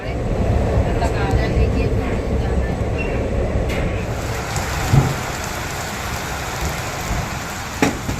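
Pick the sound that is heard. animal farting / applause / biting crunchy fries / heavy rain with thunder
heavy rain with thunder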